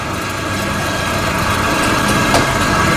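Maksindo MKS-AYK45 flour sieving machine vibrating, a loud, steady low hum and rattle that continues without a break.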